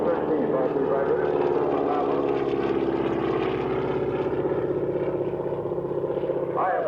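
A Vultee BT-13 propeller trainer flies at a 1988 air show, its radial engine giving a steady, loud droning roar with a rough pulsing texture that holds throughout, with a slight shift near the end.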